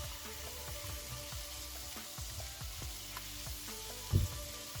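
Ackee and saltfish with tomatoes frying in a pan and being stirred, a quiet close sizzle with repeated light spoon scrapes and taps, one slightly louder knock near the end.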